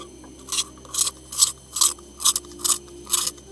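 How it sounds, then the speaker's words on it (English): Pencil trimmer shaving the wood of a colored pencil, seven evenly spaced rasping strokes about half a second apart, close and fairly loud, with no talking. "This trimmer doesn't really trim the lead, just the wood."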